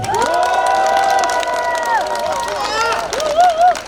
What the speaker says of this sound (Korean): 큰 박수 한번 쳐주십시오